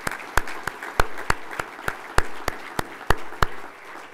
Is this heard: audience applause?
yes